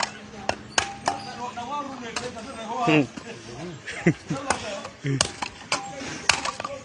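Axe chopping firewood outdoors, with several sharp thwacks and taps scattered through the stretch while someone talks over them.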